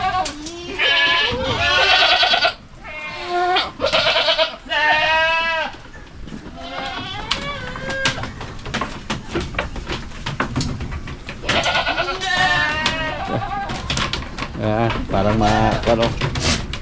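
Several goats bleat loudly and repeatedly nearby, wavering cries overlapping one another, with quieter shuffling and occasional bird calls in between.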